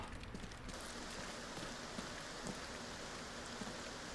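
Steady rain in the video game Arena Breakout falls as a continuous soft hiss with faint scattered drops, quiet and even throughout, with no voices.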